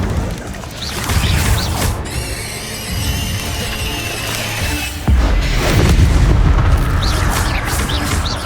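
An Incendio fire spell is cast twice in Hogwarts Legacy, each a loud whooshing, crackling burst with a ringing shimmer. The blasts are close, with a low rumble beneath and no talk.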